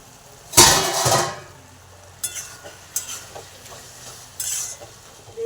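Spinach curry (palong shaker ghonto) cooking in a pan on the stove, with a sudden burst of sizzling and stirring followed by a few soft clinks and short sizzles of the spatula against the pan.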